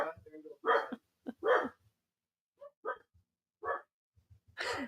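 Dog barking in a house in the morning before heading out to the yard, several short barks and yips in irregular bursts with gaps between them, fairly close and clear, with no talking.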